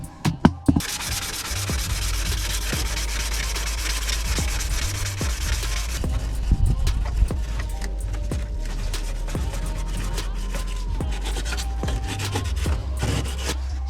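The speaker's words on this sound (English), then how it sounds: "Trying to rub it down until you get to like the metal." Hand sanding works surface rust off the rear wheel arch of a Honda Civic Type R EP3 down to bare metal, giving a continuous close scraping rasp with a few sharp knocks near the start and a constant low hum underneath.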